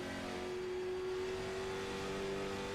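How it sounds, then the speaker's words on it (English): A race car engine at North Wilkesboro holds a steady, loud drone on throttle, its pitch staying level and continuous from start to finish with no talk over it. "3/4 throttle, all the way back up, full throttle down the back straightaway."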